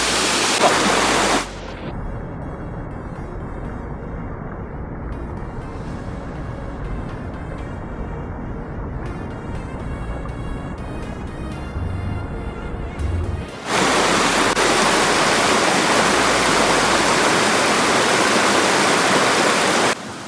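A waterfall plunging down in the deep forest of Kodaikanal, a loud continuous rushing roar close by, dropping to a softer distant wash in the middle before the full roar returns.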